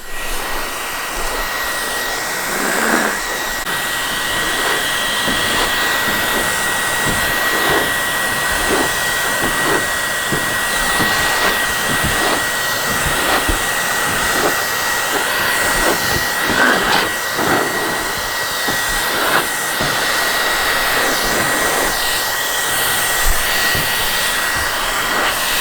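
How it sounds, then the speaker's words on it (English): An old work blow dryer serving as a heat gun on vinyl roars steadily and loudly throughout, a continuous airy whoosh with a faint high whine and no talking. "he's using his old blow dryer from work"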